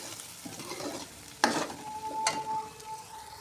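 Garlic and onion with ginger-garlic paste frying in a pan, a soft sizzle broken by a sharp clatter of stirring and a later scrape, with a faint steady tone lingering underneath; no one speaks.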